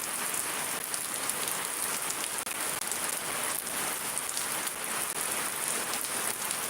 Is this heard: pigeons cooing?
no